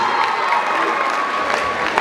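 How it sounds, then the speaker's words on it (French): Lively crowd applause mixed with cheers and shouts in a university amphitheatre in Yaoundé during a comedy show, loud, dense and continuous for a brief moment. "Est-ce qu'on peut applaudir pour mon petit?"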